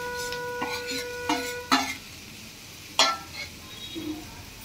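Raw banana pieces stir-fried with onions in a pan for an onion-chilli banana curry: sporadic scraping clinks of a utensil against the pan with a soft sizzle beneath, a few sharper knocks standing out, no talking.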